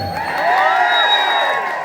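A concert audience cheers and whoops in a big crowd roar that swells and holds loud for a couple of seconds, with scattered shouting voices over the mass of sound.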